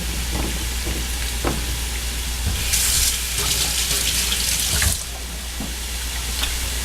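Tap water running over hands at a kitchen sink while cooking veal marsala, a soft background trickle that bursts into a louder splashing gush for about two seconds before easing off.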